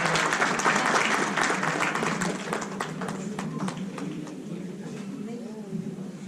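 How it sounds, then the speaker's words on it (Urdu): Audience applause at an Urdu poetry session, sustained broadband clapping that starts loud and slowly thins out, with a voice speaking faintly under it toward the end. "آفرین کے لیے ایک بار پھر بھرپور تالیاں"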